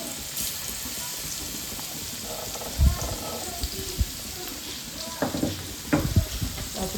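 Soft sizzling of garlic frying in a pan, with occasional scraping and stirring clatters.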